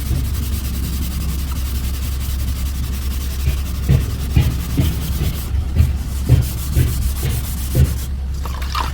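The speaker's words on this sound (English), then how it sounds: "we're going to wet sand this whole front bumper piece because we are blending the color and then clearing it" Wet sanding of a plastic car front bumper by hand, with rhythmic rasping strokes roughly twice a second over a steady background hum, close and moderately loud, no voices.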